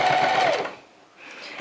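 A sewing machine stitches a seam along bias-bound edges in a loud, close burst that stops partway, then restarts more quietly.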